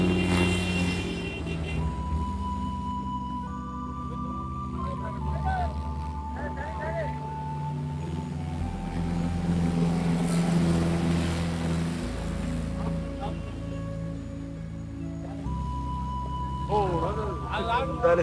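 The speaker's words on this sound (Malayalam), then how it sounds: "ട്രാക്ടർ വഴിയാണ് സാധനങ്ങളൊക്കെ കൊണ്ടുപോകുന്നത്." A tractor hauling goods at the Sabarimala sannidhanam rumbles with a steady engine drone that swells and eases, while voices talk nearby.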